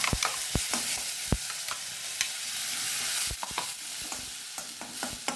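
Ground masala goes into a pan of karavali-style tambuli over low heat, with a steady close sizzle and frequent sharp scrapes and taps of a spoon stirring against the pan.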